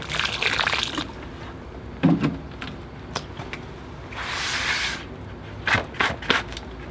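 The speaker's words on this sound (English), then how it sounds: "I'm going to water this in really well." Water poured onto a potted pequin pepper plant, mixed with fish fertilizer, gives soft splashing and trickling in a couple of short bursts, near and moderately quiet, with a few light taps between.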